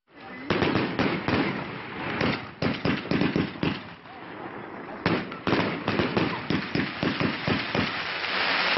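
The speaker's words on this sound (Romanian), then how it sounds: "artificiile au fost lansate din fața casei primarului" Fireworks launched in front of a mayor's house in a commune in Timiș County, Romania, crackle and boom in dense, loud bursts, with rapid repeated bangs close together and short gaps throughout.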